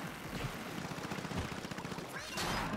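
Mini Splatling weapon in Splatoon 2 Salmon Run firing a dense, rapid stream of shots that runs steadily for nearly three seconds, with game noise and a brighter burst near the end.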